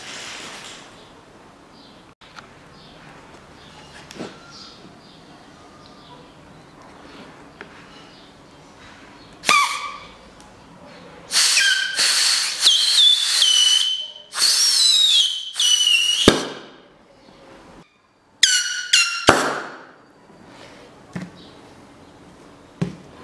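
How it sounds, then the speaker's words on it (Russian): Compressed air blasts brake fluid out of a front brake caliper on a Land Rover Defender, loud hissing bursts in several uneven spurts, with quieter workshop handling between them. "Сейчас жидкость выдую."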